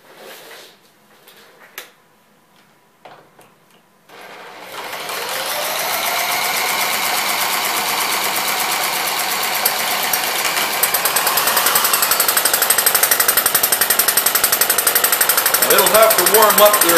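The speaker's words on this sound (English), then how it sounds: "Once the engine started and the fly rates flew out, that cut the speed back." An old Webster stationary engine with a governor, silent for a few seconds with a few clicks, then catching and settling into a loud, fast, even mechanical chatter that runs steadily to the end.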